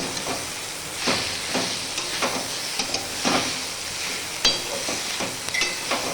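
Pieces of taro (ghot kochu) frying in oil in a pan, a continuous soft sizzle punctuated by periodic scraping stirs and an occasional sharp clink of the utensil.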